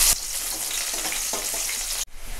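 Chopped onion hits hot oil already seasoned with black cumin, dried chilli and bay leaf, bursting into a loud, steady sizzle that fills the short stretch before cutting off sharply near the end.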